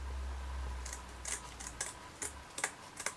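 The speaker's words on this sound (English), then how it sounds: "So I'm just going to cut them out" Scissors snipping shapes out of stiffened hessian, a series of crisp, close cuts at an irregular pace, each a short sharp click, over a low hum that drops away partway through.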